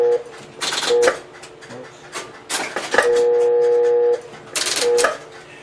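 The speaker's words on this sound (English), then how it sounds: "I will dial a 3 and it'll step up to the level number 3" Electromechanical step-by-step selector switch in a telephone exchange stepping as a digit is dialed, with clattering bursts of mechanical clicks and a steady electrical tone, close and loud.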